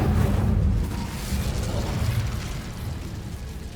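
Incendio fire spell cast in Hogwarts Legacy: a loud whooshing burst of flame that starts strong, then settles into a steady roaring, crackling rush that holds for several seconds, with no talk.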